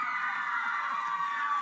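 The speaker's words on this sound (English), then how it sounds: "do you just walk into rooms of squealing girls?" A studio audience of girls squealing and cheering, a continuous high-pitched wall of screams and shrieks that holds loud and steady throughout.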